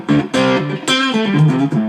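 Electric guitar driven through a Brimstone Audio Crossover Distortion XD-1 pedal, several loud, thick distorted chords and notes in a mid-heavy tone, each sustaining and changing pitch in quick succession with no talk.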